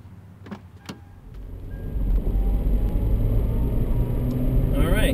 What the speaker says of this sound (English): Alright, so now we can take it for a drive.